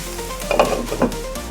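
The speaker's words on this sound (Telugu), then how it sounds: "ఇది ఒక మీడియం ఫ్లేమ్లో పెట్టేసుకొని 5 నిమిషాలు బాగా మగ్గనివ్వాలండి" Stuffed eggplant curry cooking in a pan over a medium flame, giving a steady close sizzle broken by a couple of louder stirring scrapes against the pan.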